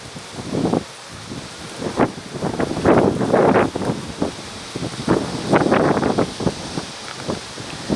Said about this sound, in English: we had a gust of wind there